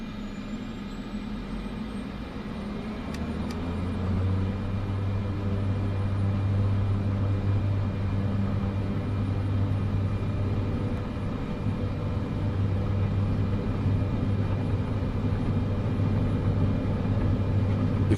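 An airliner rolls down the runway for takeoff in Microsoft Flight Simulator, its engines building into a loud, steady roaring rumble that holds for many seconds without speech.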